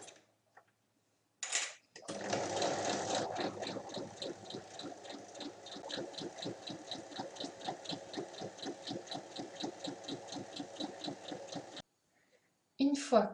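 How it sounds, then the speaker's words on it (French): A sewing machine stitches the curved edge of a neck pillow, a steady rapid mechanical throb running evenly for about ten seconds before stopping, close and moderately loud. "on vient piquer l'arrondi et on fait un point d'arrêt au début et à la fin"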